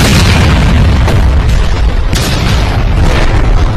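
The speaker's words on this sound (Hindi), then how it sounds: "पंखा जमीन से जा टकराया और एक भयानक विस्फोट हो गया।" A loud, sustained roaring boom from a plane crash explosion that fills the whole clip, dense and rumbling, with no pauses.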